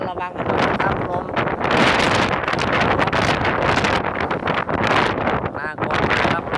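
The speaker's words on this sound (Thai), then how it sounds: "ระวังกันด้วยนะครับลม" Strong wind from Typhoon Megi buffets the microphone outdoors, a loud, continuous roaring gust with someone speaking over it in bursts.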